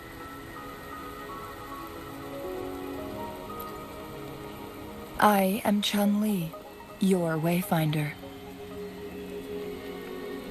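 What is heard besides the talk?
rain falling in the video game Wuthering Waves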